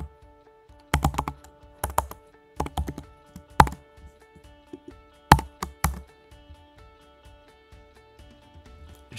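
Code being typed on a computer keyboard: bursts of quick, close key taps separated by short pauses, with scattered single strokes between them.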